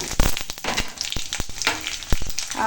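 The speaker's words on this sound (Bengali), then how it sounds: "দিয়েছি কড়াই সরিষার তেল আর এখানে আছে ফোড়নে তেজপাতা শুকনো লঙ্কা পাঁচফোড়ন দিয়ে দিলাম" Bay leaf, dried red chilli and five-spice seeds sizzle and crackle in hot mustard oil in a kadai, with sharp popping bursts and occasional stirring scrapes over a steady frying hiss, close and fairly loud.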